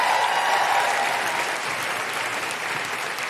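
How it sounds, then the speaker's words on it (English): Live audience at a comedy and talk event in Wellington, New Zealand bursts into a steady, dense round of applause that holds evenly throughout with no voices over it. "Big round of applause for Bex, everybody."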